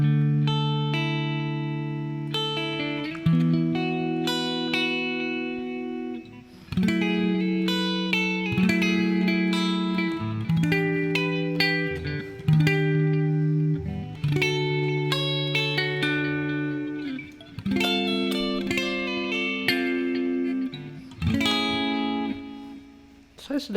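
Electric guitar played with a clean tone through a Zoom G1X Four multi-effects pedal with delay and reverb, sustained chords and arpeggiated notes ringing out with echoing tails across a steady strummed base.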